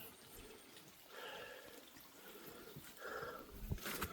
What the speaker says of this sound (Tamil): அப்படியே ஓடிக்கொண்டு இருக்குது தண்ணி அங்கே வரைக்கும்.